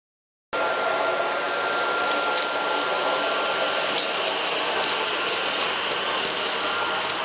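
A Jimmy JV65 cordless stick vacuum runs at maximum power with a scraping brush head, giving a steady loud whirring roar with a high motor whine throughout.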